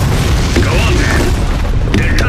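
Artillery fires in the real-time strategy game Iron Harvest: a loud, deep, continuous rumble of booms, with a game unit's voice shouting over the battle noise.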